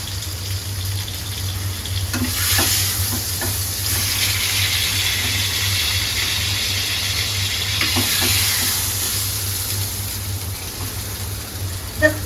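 Rohu fish pieces frying hard in hot oil give a steady close sizzle and hiss, with a few sharper crackles and spits through it and a low hum underneath.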